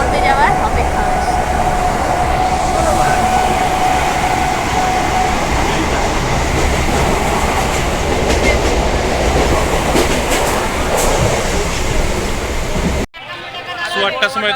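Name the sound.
passenger train running on rails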